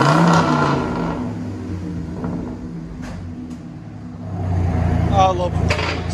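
An American V10 engine in a car with a six-speed manual transmission revs and settles, with a throaty exhaust rumble swelling again toward the end while someone talks over it.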